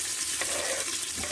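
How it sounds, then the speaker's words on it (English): Finely cut onions hitting hot ghee in a pan, producing a steady broadband sizzle that stays loud and continuous for the whole moment, with no voices. "To this we are going to add the finely cut onions."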